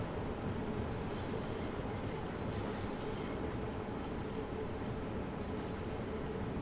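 London Underground Bakerloo Line train in Train Sim World 2, coasting on a downhill stretch: a steady, loud rolling rumble with faint wheel squeal and rail noise, continuous throughout with no voices.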